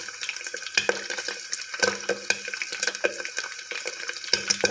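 Mutton fat crackles and sizzles in a pan as it renders down into oil, with bursts of popping and stirring scrapes coming close and fairly loud.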